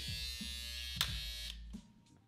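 An Andis Superliner 2 hair trimmer runs with a steady high electric buzz close to the microphone, a brief click partway through and the hum dropping off near the end.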